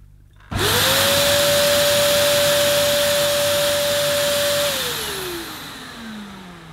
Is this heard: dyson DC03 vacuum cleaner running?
yes